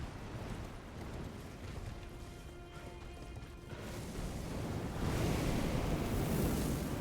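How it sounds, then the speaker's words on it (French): A waterfall in the video game Elden Ring Shadow of the Erdtree gives off a continuous broad rushing roar that swells louder over the last few seconds, with no voices. "c'est la cascade qui est en bas encore"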